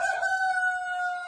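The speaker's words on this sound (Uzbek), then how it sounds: "Mayda oxiri chiqqan jo'jalarimiz." A young chicken, one of a batch hatched in late May, gives a single sustained, clear, tonal call lasting about a second, close to the microphone with a quiet background.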